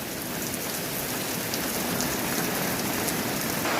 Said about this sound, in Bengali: এই দেখেন বৃষ্টি পড়ছে